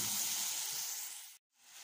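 Rice frying in melted butter in a pot gives a steady, close hiss and sizzle that cuts off abruptly near the end, then resumes more faintly.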